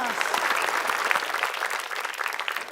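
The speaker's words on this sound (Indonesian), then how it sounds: "Tepuk tangan dong buat Seng dan Abbas." A studio audience at a TV quiz show applauds, a dense, lively burst of clapping close and loud throughout, with faint crowd murmur beneath.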